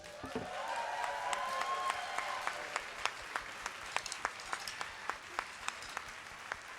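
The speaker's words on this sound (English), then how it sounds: "How about we get a round of applause for our volunteers?" Crowd applause for volunteers at a convention event, starting as a broad wash of clapping with some cheering, then thinning to a few individual claps repeating rhythmically toward the end.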